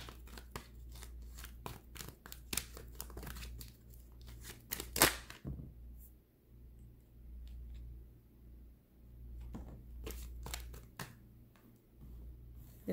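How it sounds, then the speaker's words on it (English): Tarot cards shuffled at close range, with a run of quick crisp snapping card riffles, a quieter stretch, then more riffling over a steady low background hum. "Couple more shuffles."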